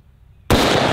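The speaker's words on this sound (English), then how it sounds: "we'll see what it does through our windshield. This is a painful gun to shoot." A .500 Magnum revolver fired at a car windshield: one sudden, very loud, close blast that cuts through near silence and rings out to the end.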